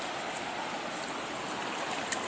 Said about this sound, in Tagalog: Hindi siya masyadong yung tubig. Malakas. Oh my goodness. Tatawid kami guys ng ilog.